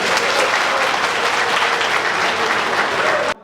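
A large crowd of party members claps loudly and continuously at a BNP workshop in Kurigram. The dense applause holds steady for a few seconds, then stops abruptly.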